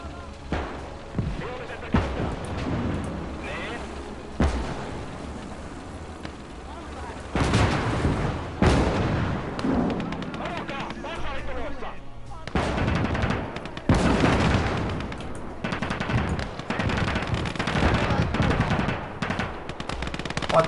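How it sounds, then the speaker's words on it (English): Artillery blasts and machine-gun fire rage in the World War II strategy game Call to Arms: Gates of Hell, set in the winter war on the Eastern Front. The battle noise is dense and continuous, with heavy booming bursts and a voice speaking underneath. "More artillery."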